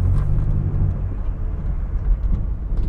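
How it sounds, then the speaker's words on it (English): A car's exhaust rumbles with a deep, steady low-frequency drone and slight pulsing swells, loud and close, heard from inside the vehicle with no talking. "Listen to the exhaust."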